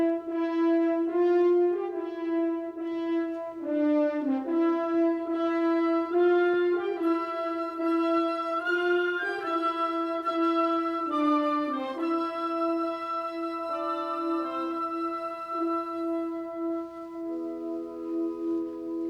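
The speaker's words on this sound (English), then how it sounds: "That's the sound of the Phrygian mode, courtesy of Mr. Brahms." A symphony orchestra plays the solemn, majestic Phrygian-mode phrase from the slow movement of Brahms's Fourth Symphony, a sustained melodic line over steady low harmony, closing on a held chord, with no talking.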